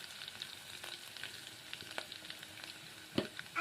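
Coriander frying in hot oil in a home kitchen, a soft steady sizzle up close with light spatters and a few stirring scrapes near the end.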